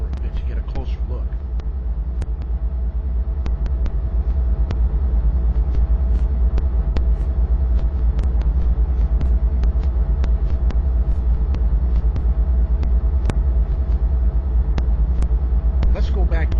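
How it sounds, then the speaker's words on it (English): A Dash 9 diesel-electric freight locomotive in a train simulator game rumbles at low, steady idle, with sharp clicks scattered over the constant drone. "The Dash 9 is a diesel-electric locomotive commonly used for hauling freight."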